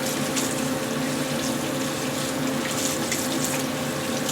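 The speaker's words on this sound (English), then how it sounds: "Turn the water on warm." Warm water runs steadily from a sink tap while Arkansas sharpening stones are washed with a little dish soap, a continuous close splashing rush with no talk.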